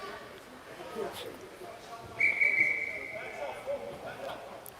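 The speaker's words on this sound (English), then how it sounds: "Now looks like we've got a whistle." Referee's whistle at a varsity ice hockey game, one clear sustained blast cutting through the low rink crowd murmur, heard at moderate distance.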